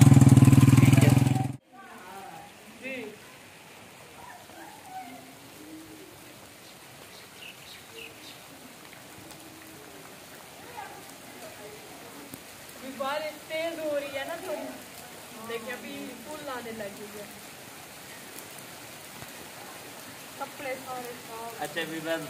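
Heavy stormy rain falls in a steady broad hiss after a loud opening burst, with people talking over it throughout.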